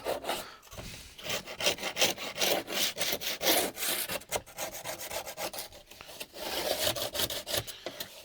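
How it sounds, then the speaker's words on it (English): A plastering trowel soaked in Eradicrete is scraped clean of hardened plaster, giving repeated rough rasping strokes close up in a steady back-and-forth rhythm, with no voices. "So now I am starting to scrape."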